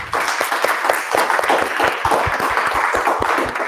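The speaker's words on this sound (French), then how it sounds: "on peut même les applaudir" An audience applauds at a festival closing event, a dense, steady wash of many hands clapping at close range, sustained evenly throughout with individual sharp claps poking through.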